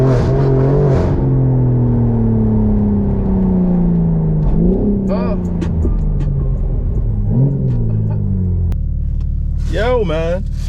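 A loud straight-piped BMW G82 M4 engine drones close by, its pitch repeatedly sliding down then surging up in revs; a voice cuts in briefly near the end.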